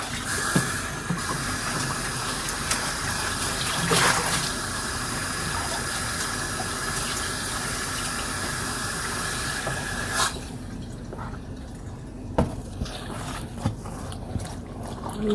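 Tap water runs steadily into a sink while a soapy, ink-stained cloth is rinsed, a continuous splashing stream that thins and quiets partway through with a few sharp clatters.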